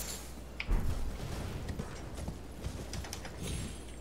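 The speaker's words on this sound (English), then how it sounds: "you can also bring up your horse here" A horse's hooves clip-clop in the video game Elden Ring, a steady galloping rhythm of close, fairly loud hoofbeats over a soft ambient background, with no one talking.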